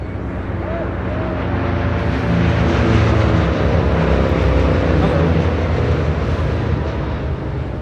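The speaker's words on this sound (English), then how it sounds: "This is United Airlines 2614 taking off to Newark on a 787-10 Dreamliner." A United Airlines 787-10 Dreamliner takes off at LAX bound for Newark, its engines a loud continuous roar that swells slightly midway and then holds steady, with voices faintly mixed in.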